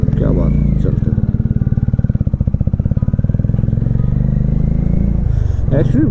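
A motorcycle rides along a mountain road in Arunachal Pradesh, its engine a loud, close, steady low throb with a rhythmic pulse, while a voice speaks over it.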